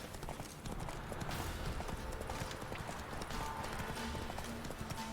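Steady clip-clop of hooves as the horse Roach runs in The Witcher 3, a brisk galloping rhythm at moderate level over faint game ambience.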